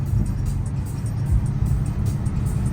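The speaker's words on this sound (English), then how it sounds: "Downshift, downshift." A BMW M3 downshifts and revs while driving on a rough, rocky road, its engine giving a loud, close, low rumble with surging revs throughout.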